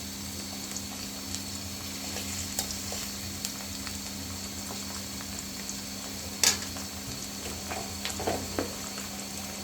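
Ginger and garlic paste fries in a pan for a stir-fish and taro curry, giving a steady low sizzle and bubbling throughout with a few faint clinks, no talk.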